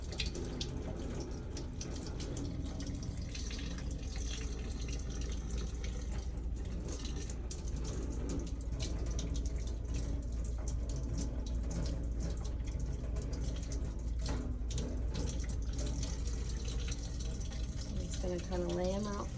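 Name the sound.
rinsing instruments under lukewarm tap water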